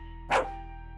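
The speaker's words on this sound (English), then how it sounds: "The old dog barks warningly while scooting itself closer to the wall, eyes fixated on Ronnie." An old dog in a horror video game gives a single short warning bark over a steady electronic hum, with no talk.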